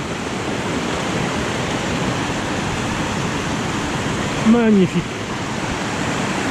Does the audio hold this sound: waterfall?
yes